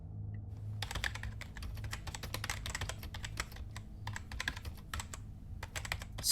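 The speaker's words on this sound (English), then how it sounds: "fiddling with his keyboard." Rapid, irregular keyboard typing clicks close by, in quick bursts with brief pauses, over a faint low hum.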